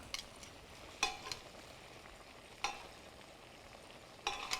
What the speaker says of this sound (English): Nestle the fish in and let it continue cooking in this flavorful tomato sauce